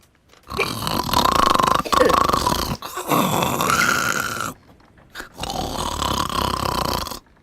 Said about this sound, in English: you snore loudly